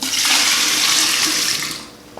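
Liquid, likely sweetened tea, pours steadily in a loud, continuous splashing stream for nearly two seconds into a kombucha SCOBY hotel, then trickles off at the end, heard up close.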